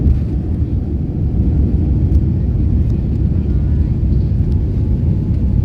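An airplane takes off, heard from inside the cabin as a steady, loud, deep engine roar and rumble that holds for several seconds.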